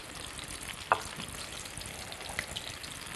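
Breaded chicken pieces sizzle in hot, shallow oil for restaurant-style fried chicken, giving a steady close crackling hiss throughout with a couple of brief sharper pops and spatters, and no talking.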